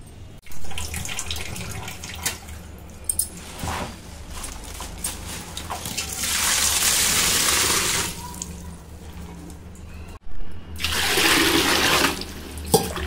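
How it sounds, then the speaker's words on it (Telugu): Running water splashes steadily as gongura (sorrel) leaves are rinsed, with bursts of heavier flow and a brief pause before the stream resumes. "ఇలా గోంగూరని 1-2 సార్లు మంచిగా వాటర్లో కడుక్కోవాలి."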